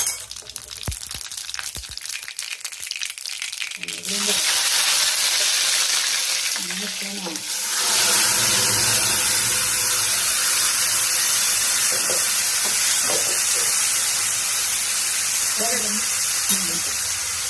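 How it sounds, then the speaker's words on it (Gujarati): Boiled chickpeas hiss and sizzle loudly in a hot spiced tempering of cumin, mustard seeds, turmeric and chili in a Gujarati home kitchen, a steady close frying roar that swells midway, with faint voices in the background. "સરસ મજાનો ચણાનો વઘાર થઈ ગયો છે"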